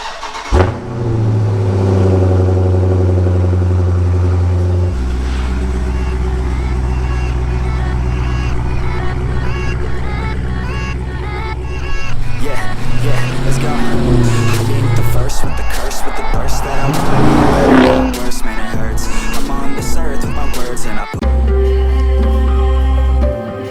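A Dodge Charger SRT 392 V8 cranks and fires up, settles into a deep burbling idle, then is revved hard in several loud bursts before dropping back to idle, close to the microphone.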